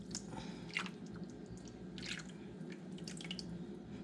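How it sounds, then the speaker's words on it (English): Apple juice is poured over a tenderloin being prepared for smoking, giving soft, quiet splashes and drips in a few scattered bursts. "I'll pour the apple juice in."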